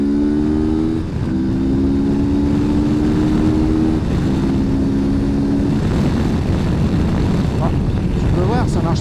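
A CF Moto 650MT motorcycle engine pulls hard on an open road, a steady droning note rising through a gear change and then building again, loud and close throughout with rushing wind, no talking.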